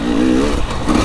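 KTM enduro motorcycle engine revving hard during a wheelie at an enduro event, a loud, close, rising and falling engine note over about a second.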